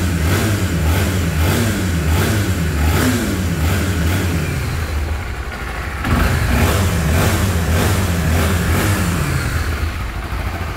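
A smooth-running motorcycle engine revs repeatedly, rising and falling in quick bursts, loud and close, with a brief dip before revving again.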